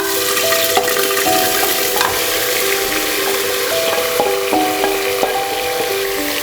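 Marinated mutton sizzles steadily in sesame oil, a dense continuous frying hiss with scattered scraping taps and clicks of a stirring spoon against the pan, close and fairly loud, no voices.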